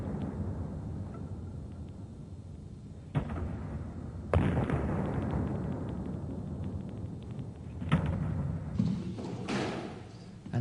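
Squash ball struck during a two-player court drill, one driving straight from the back while the other volleys from the tee: a few sharp, echoing thuds spaced seconds apart in a reverberant court.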